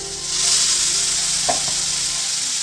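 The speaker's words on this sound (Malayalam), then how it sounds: "ഞാനൊരു തക്കാളി എടുത്തിട്ടൊന്ന് ഒന്ന് മിക്സിയിലിട്ട് അടിച്ചതാണ് അത് ഒഴിച്ചു കൊടുക്കുന്നത്" Blended tomato hits a hot frying pan for a meatball curry, giving a loud, continuous, close hiss of sizzling with a faint clink partway through.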